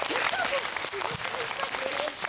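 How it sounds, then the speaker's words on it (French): Children's audience applauding at a Christmas storytelling show in Gauchy, scattered clapping running throughout with children's voices and chatter layered over it. "Si vous avez aimé, applaudissez"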